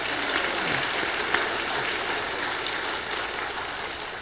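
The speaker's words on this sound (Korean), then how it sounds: "하나님의 영광의 박수 한번 올려드리겠습니다" A church congregation at a Sunday service breaks into sustained applause, a dense, even wash of many hands clapping that fills the room steadily with no voices on top.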